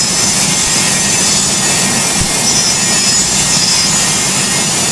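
Boeing 727 jet engines roar at takeoff thrust in the flight game Project Flight, a loud, steady, broadband rumble that stays constant and close with no voices.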